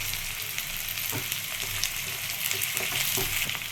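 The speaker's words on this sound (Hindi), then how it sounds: "इसमें हम 2 प्याज काट के लिया था वो डालेंगे। इसको 30 सेकेंड तक भूनेंगे।" Chopped onions and garlic fry in a pan for red sauce pasta, giving a steady, dense sizzle with faint stirring scrapes throughout, close and continuous.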